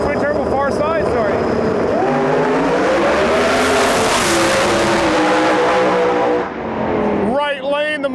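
In a drag race pass, a screw-blown Buick Grand National runs against a twin turbo car with loud engines roaring up through rising, shifting tones. Tire noise is mixed in, and a second car's revving comes in near the end.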